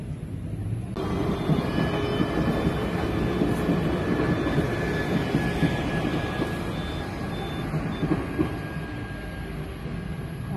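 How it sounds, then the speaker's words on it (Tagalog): A train approaching along the rail line in Hamasen, Kaohsiung, heard as a steady, loud broadband rumble that swells in after a quiet first second and holds throughout, with no talk over it. "May palapit na train pag ganyan eh."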